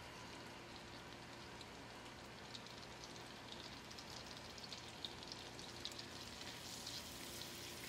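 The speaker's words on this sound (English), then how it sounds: "Listen to that sizzle." Butter and ten cloves of garlic sizzle steadily in a pan, a soft constant crackle and hiss with occasional brighter pops, close by and uninterrupted.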